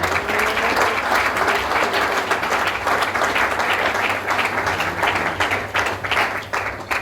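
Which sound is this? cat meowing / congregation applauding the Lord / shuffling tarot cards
congregation applauding the Lord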